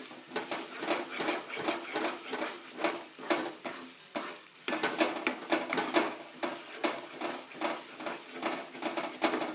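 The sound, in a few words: stirring cashews and coconut into halwa in a pan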